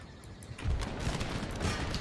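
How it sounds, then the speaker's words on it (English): Infantry musket volleys crackle in the Empire Total War video game as massed battle lines open fire, giving a dense, continuous rattle of overlapping shots with distant booms, loud and unbroken throughout. "Bagheer infantry have formed a new battle line along with the Hindu warriors opening fire."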